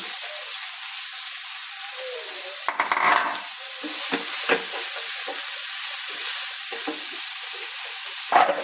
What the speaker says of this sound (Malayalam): ഉള്ളിയൊക്കെ മൂത്ത് നമുക്ക് ചേനയുടെ തണ്ടരിഞ്ഞത് അങ്ങോട്ടിടാം.